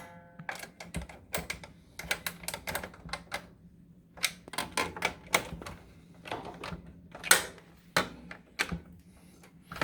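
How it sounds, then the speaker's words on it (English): Sharp, irregular clicks and ticks sound close and fairly quiet while screws are tightened at the bottom of an MEI bill acceptor on a vending machine, scattered in quick bursts with short pauses. "So you simply tighten up the screws at the bottom."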